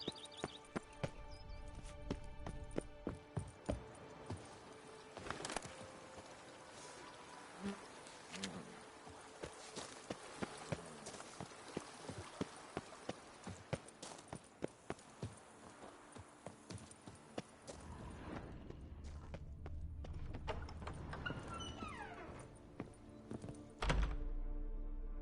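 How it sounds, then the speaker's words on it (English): Rapid horse hoofbeats pound steadily in a galloping rhythm for a long stretch in The Witcher 3: Blood and Wine, layered over an ambient game soundscape, then slow and stop near the end. "Even a horse drops if you ride it with a constant gallop."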